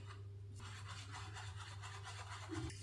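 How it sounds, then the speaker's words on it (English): A brush stirs hair bleach in a bowl, giving soft, continuous scraping and rubbing strokes at close range over a low background hum; one slightly louder scrape comes near the end. "I'm using my brush."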